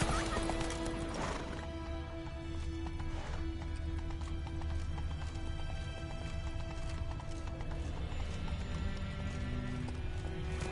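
Roach, a horse in The Witcher 3, gives a loud whinny near the start, then hooves clip-clop at a steady gallop for the rest of the clip over game music and ambient sound.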